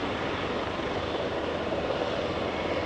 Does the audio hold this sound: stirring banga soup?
no